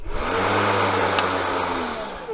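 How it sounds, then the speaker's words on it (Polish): A Milwaukee M18 cordless battery lawn mower (F2LM53) has its motor spin up quickly to full speed, giving a loud, close, steady electric whir with a low hum that holds throughout. "Silnik w tej maszynie startuje naprawdę szybko po włączeniu."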